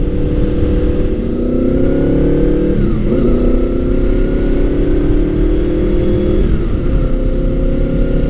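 A Gen 5 Honda VFR800 motorcycle engine of 1998–2001 accelerating loud and close, its steady rising pitch climbing through the revs, dipping briefly at two gear changes, then pulling up again.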